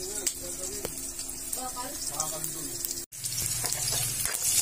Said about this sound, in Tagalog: Sibuyas, bawang, ginisa ko na dyan.